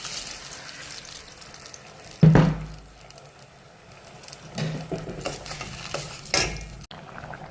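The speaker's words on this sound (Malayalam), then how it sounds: "അതിലേക്ക് ഞാൻ ജോക്കറി അരി, ബിരിയാണീൻ്റെ അരി എടുത്തത്, അത് കഴുകട്ടെ" Biryani rice goes into a pot of boiling water in a home kitchen, making a sudden splash and pour, followed by softer bubbling, stirring and clinking, with another brief splash near the end and no speech.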